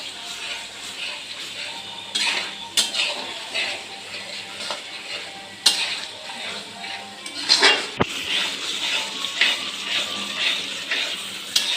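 Dried chillies, bay leaf, cumin, garam masala, onion, garlic and ginger fry in a pan while being stirred, with intermittent metallic clinks and scrapes of the utensil over a soft, continuous sizzle.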